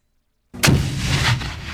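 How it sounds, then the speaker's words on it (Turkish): A shrapnel bomb goes off in Garry's Mod after near silence: a sudden sharp blast followed by a long, loud rumbling roar that swells again before settling. "El bombası, şarapnel bombası var. Bir bunu deneyeceğim merak ettim."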